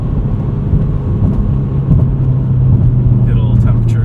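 A modified FA20 engine in a 2020 Subaru WRX 6-speed manual drones steadily and loudly while accelerating, with a low rumbling hum that swells slightly toward the end, as from inside the moving car.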